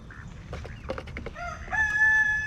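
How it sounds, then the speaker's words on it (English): Chickens cluck in short bursts nearby, then a rooster crows loudly with a long, drawn-out call. "These chickens. Look at that."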